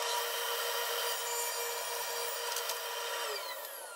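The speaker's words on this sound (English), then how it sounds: "set my table saw to 4 1/4 inches and get the dust collection hooked up, turned on, and make this rip cut." A table saw rips a cut through MDF while a dust collector runs, producing a steady, loud, hissing whine throughout that tapers slightly near the end.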